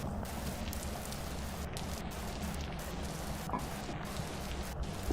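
Steady rain hiss from Vintage Story, continuous broadband patter across the whole stretch at moderate level, with no voice over it.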